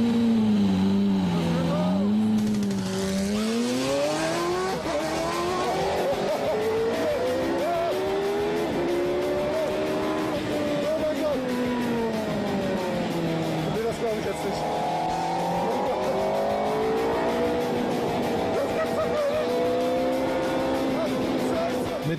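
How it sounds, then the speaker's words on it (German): A race taxi car tears around a racetrack at nearly 300 km/h, its engine a loud, continuous high-revving roar that rises and falls in pitch through gear changes, with faint tire noise underneath. "Mit knapp 300 Sachen kachelt das Renntaxi über die Strecke."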